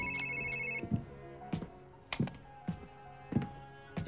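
A telephone rings in a family dinner scene from a medical drama, with repeated ringing bursts at a regular rhythm, moderately loud against a tonal background.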